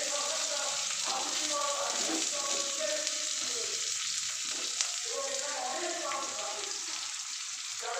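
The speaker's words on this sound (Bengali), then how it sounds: "গ্যাসটা বাড়িয়ে এবার পেঁয়াজটা একটু ভাজবো লাল লাল করে।" Chopped onion fries in oil in a pan for a Bengali poppy-seed chicken dish, giving a continuous, fairly loud sizzle with bubbling crackle and occasional stirring scrapes.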